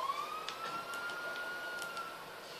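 A faint video-game ambulance siren wails steadily in the distance, a thin sustained tone over low background hum, with no talking.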